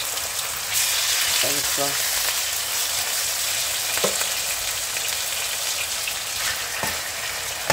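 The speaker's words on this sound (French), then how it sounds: "L'huile est bien chauffée là. Je vais mettre ma viande." Pork neck meat hits hot oil and fries with a steady, loud sizzle throughout, punctuated by a few brief clinks of utensils, while a person speaks briefly over the cooking.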